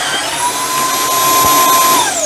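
A Ryobi RHFC18BL 18V cordless vacuum mop runs with a loud, steady motor whine and airflow roar close by, its pitch holding even before dipping slightly at the end, alone without speech.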